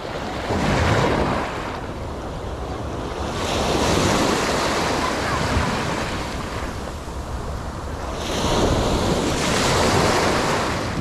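Strong wind roars across the microphone by the sea at Canlocani, Dapitan City, while waves rush and break in repeated surges, loud and close throughout.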